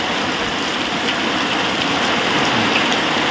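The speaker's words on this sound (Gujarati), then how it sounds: "ફાઇનલી હવે કંઈક વરસાદ કહેવાય એવું વરસાદ ચાલુ થયો" Heavy rain pours down steadily outside a house, a dense, even, close hiss of drops hitting surfaces that holds unbroken throughout, with no voices.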